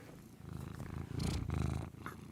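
A cat purrs right up close in a steady, rumbling flutter that swells louder midway and holds, with no other sounds around it.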